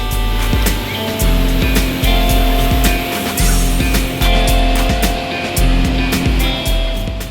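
Cars and motorcycles move along a busy beachside road at Ujong Blang beach in Lhokseumawe during the holiday crowd, a steady loud traffic rumble with repeated passing engines and clicks, no voices.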